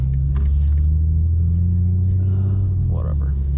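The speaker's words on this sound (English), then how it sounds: "So you guys should be able to hear the car as well." A BMW M4 Competition engine rumbles low and steady from inside the cabin while driving, a constant deep drone with a slight swell near the end.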